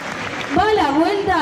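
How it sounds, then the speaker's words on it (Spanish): A crowd at a freestyle rap battle tournament claps and cheers, with clapping rising and growing dense under a loud voice that calls out over it. "¡Aplauso, gente!"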